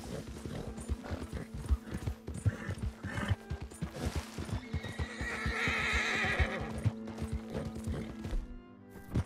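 A horse neighs and its hooves clip-clop in the video game Red Dead Redemption 2, a loud whinny over a run of rhythmic hoofbeats, close and clear with almost no talk.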